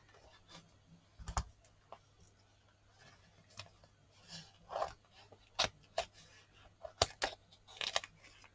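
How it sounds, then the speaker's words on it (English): Scissors cut through washi tape on a tabletop in a run of sharp, close snips and clicks, spaced irregularly over quiet room tone, with no talking. "Might have to go in with my scissors, I think."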